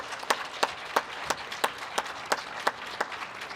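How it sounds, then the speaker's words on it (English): Sparse, slow clapping at a 2021 college commencement ceremony, distinct single claps at a steady rhythm, fairly faint and distant, with no voices over it. "You can applaud that."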